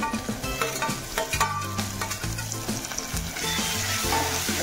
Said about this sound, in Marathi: आता छान व्यवस्थित परतून घेऊया।